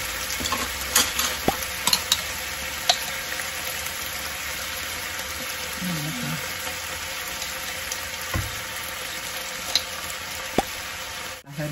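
Chicken with cashew nuts being stir-fried in a pan with roasted chili paste over raised heat: a constant close sizzle with scraping stirring clicks and occasional sharper knocks, no talking.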